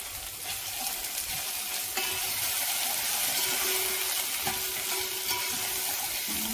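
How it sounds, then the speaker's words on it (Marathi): Kashmiri red chilli and dried red chillies sauté in hot oil over a lowered gas flame for a dal tadka, giving a steady, close sizzle with occasional stirring scrapes and no talking. "असं हे परतवून घ्यायचं"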